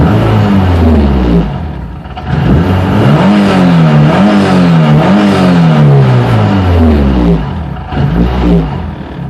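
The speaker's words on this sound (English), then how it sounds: "just give some blips of the throttle" A Megasquirt-tuned car engine revs through repeated throttle blips, loud and close, its pitch climbing and falling in several rising-falling sweeps over a steady idle, with no talking.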